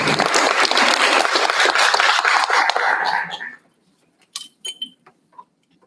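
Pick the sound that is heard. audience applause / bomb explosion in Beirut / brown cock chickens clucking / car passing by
audience applause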